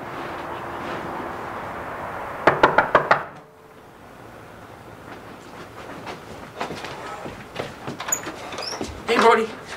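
A quick burst of five sharp knocks on a door, then quiet room tone with faint movement and a brief voice near the end.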